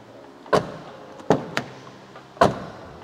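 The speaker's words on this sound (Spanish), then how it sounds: "Empecemos por abrir y cerrar la puerta para que escuchéis el sonido." The rear door of a 2024 Renault Captur is opened and shut, giving several loud, close, sharp thumps and latch clunks spaced about a second apart, with no talk.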